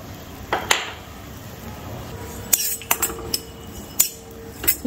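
Grated coconut dry-roasting in a pan as a spoon stirs it, producing sparse metallic scrapes and taps against the pan over a quiet background, with no talking.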